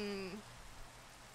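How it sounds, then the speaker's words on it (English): Soft, steady rain hiss in the horror game Phasmophobia, faint and continuous after a short tonal sound at the very start. "Yeah, it's raining, but I don't think it's a thunderstorm."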